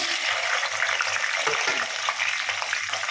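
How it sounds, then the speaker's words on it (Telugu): Green chillies dropped into hot tempering oil for tamarind pulihora, a steady loud sizzle and crackle of frying with some stirring. "తాలింపు ఆయిల్ అయితే వేడెక్కేసింది ముందుగా పచ్చిమిర్చి వేస్తున్నాను"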